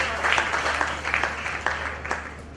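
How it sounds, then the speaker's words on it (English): An audience at a startup demo day applauding, a continuous patter of many hands clapping in a hall, fairly loud and uneven, with faint voices underneath. "let's give them all a bigger round of applause today."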